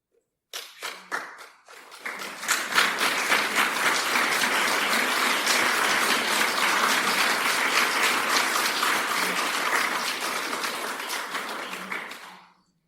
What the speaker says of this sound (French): Nous venons d'applaudir le Seigneur